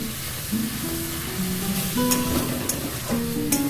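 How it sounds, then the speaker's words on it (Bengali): Chopped onion sautés in a pan with cumin, dried chilli and turmeric powder, giving a constant loud sizzle broken by scraping stirs, with faint tonal sounds running in the background. "খুব ভালো করে কষিয়ে নেবেন, পেঁয়াজের কাঁচা গন্ধটা যাতে না বেরোয় সেজন্য খুব ভালোভাবে কষিয়ে নিতে হবে"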